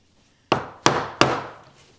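Three firm mallet blows drive a chisel into a wood mortise for a wedged mortise and tenon joint, close and crisp, spaced about a third of a second apart with short woody decays.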